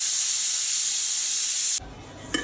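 Pressure cooker whistling as it releases steam while chicken soup cooks, a loud continuous close hiss that cuts off abruptly near the end, leaving a quiet background with a small clink.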